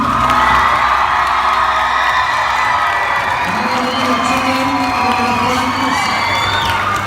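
A school gym crowd at a pep assembly for a state champion girls cross country team cheers, whoops and shouts loudly and continuously, with children's yells and sustained voices rising over a dense roar.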